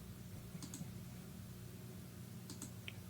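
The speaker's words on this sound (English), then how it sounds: "I'm just clicking and moving my mouse." Faint computer mouse clicks at a desk during 3D modelling work, a few light, sharp taps in two small clusters over a steady low background hum.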